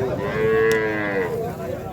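A red Sahiwal calf at a cattle market in Nilphamari gives one long, loud, drawn-out moo close by, with market noise behind it.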